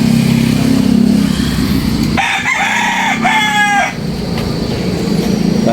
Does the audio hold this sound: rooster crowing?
yes